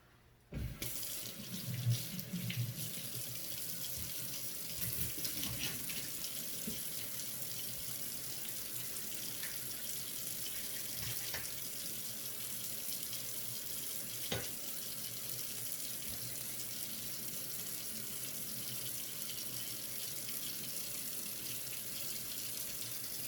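Tap water running steadily into a sink while cut onion and green pepper are rinsed, a constant close splashing rush with a few brief knocks near the start.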